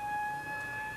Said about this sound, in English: siren sounds for the three riders